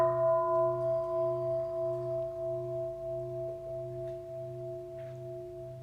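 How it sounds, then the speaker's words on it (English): A mindfulness bell struck once during a dharma talk rings with steady sustained tones that slowly fade over several seconds, with a low hum beneath and no talking. "maybe we could listen to a sound of the bell"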